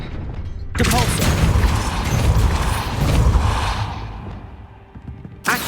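In Hogwarts Legacy, the Depulso spell bursts out suddenly as a loud, roaring, whooshing blast that swells and slowly fades over several seconds, followed by a sharp final hit.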